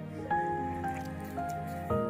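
Water trickles and drips into the base of a geyser-style stovetop coffee maker, filled up to the mark, in short, close, wet splashes.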